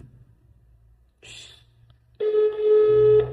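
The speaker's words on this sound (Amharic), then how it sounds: "ስልክ እኮ እየደወልን ነበር።" A telephone call with a faint click, then a steady electronic ring tone that starts abruptly and holds loud to the end.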